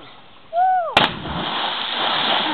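A person cannonball-jumps into the water while swimming at a country homestead: a short gliding cry gives way to one sudden loud splash, then a sustained rush of churning water.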